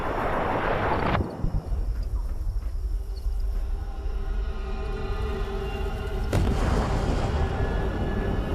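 A nuclear blast in the video game Fallout 76 booms out as a loud explosion, then a long heavy rumble that rolls on and swells again with a second sharp blast partway through.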